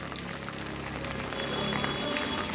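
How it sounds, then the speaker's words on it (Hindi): Continuous rain falling on the streets of Jhansi, India: a steady, dense hiss of drops on surfaces that holds even and unbroken and swells slightly toward the end, with no voices. "कल रात से बारिश हो रही है लगातार"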